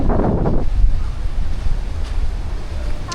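Gusty wind blows hard by the sea near a lagoon villa, buffeting the microphone with a low continuous rumble and breaking surf beneath, strongest at the start.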